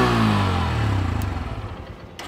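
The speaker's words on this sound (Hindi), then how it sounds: "किसका इंजन साउंड ज़्यादा बेहतर लगा प्लीज़ कमेंट करके ज़रूर बताइएगा" A 2024 Honda Hornet 2.0 or Bajaj Pulsar N160 motorcycle engine revs loudly up close, then the note drops and settles toward a throbbing idle, with no talking.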